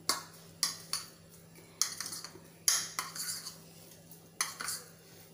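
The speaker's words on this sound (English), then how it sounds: "Now I will mix the ingredient properly." Spoon clinking and scraping against a bowl while mixing a bread idli paste with spices, in repeated sharp close taps at an uneven stirring rhythm.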